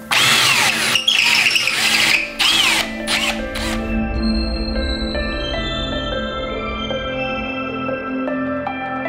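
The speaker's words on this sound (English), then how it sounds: "Put one screw in place." A cordless power driver runs a screw through a bracket into a stud wall, giving several short whirring bursts in the opening seconds, then the motor fades into quieter faint clatter and hum.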